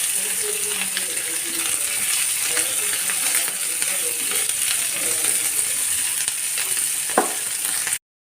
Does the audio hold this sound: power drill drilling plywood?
no